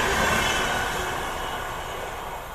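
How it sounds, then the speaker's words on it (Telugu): The Kerala Superfast Express, running from Thiruvananthapuram to New Delhi, rushes past close by with a broad, steady roar of wheels and carriages that fades slightly over a couple of seconds. "ఇక్కడ చూసుకుంటే మనకు వచ్చేసి Kerala super fast express train అయితే వస్తుంది"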